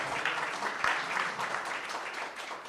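Audience applause at a venture capital panel event, a steady wash of many hands clapping at moderate, somewhat distant level, continuous throughout without talk.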